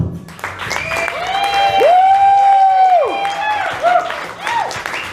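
An audience at a roast battle comedy show breaks into applause and cheering, with a host's voice talking over the clapping for several seconds.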